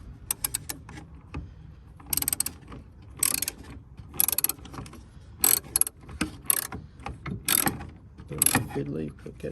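A socket set ratchet clicks in short bursts while backing out headlamp screws on a 2013 VW Touareg 7P, close and fairly loud, with quiet gaps between the ratcheting strokes.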